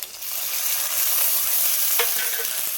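Chopped onion and spices crackle and sizzle in hot oil, a steady bright frying hiss with a few sharper pops and stirring near the end, while cooking Bengali muri ghonto with rohu fish head.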